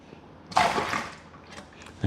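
Water sloshes in a Coopers Irish Stout homebrew syrup can as it is stirred, with one loud swirling surge followed by softer splashes, close by with no talking.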